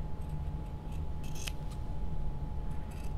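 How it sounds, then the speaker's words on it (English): Scissors snip through fabric corners for a sewing project, giving a few close, crisp cutting crunches in quick bursts over a low steady background hum. "So now I'm going to cut my corner right here and cut this off and do the same down here."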